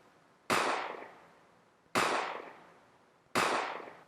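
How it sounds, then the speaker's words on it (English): A 9mm gunshot sound effect fires three times at evenly spaced intervals. Each shot is a sharp, loud crack followed by a short decaying tail, with near silence between shots. "you're going to want your gunshot, your 9mm sound"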